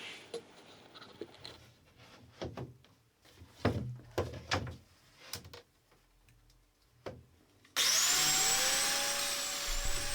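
A domino joiner fitted with a standard 5mm bit cuts mortises into the sides and base of wooden TV-unit carcasses. Scattered clicks and knocks lead into a sudden, loud, steady whine that holds to the end.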